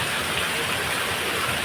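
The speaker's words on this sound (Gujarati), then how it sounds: "કેટલો બધો વરસાદ આવ્યો" Heavy rain pours down in Talaja, a dense and steady hiss of water that stays constant throughout the brief moment.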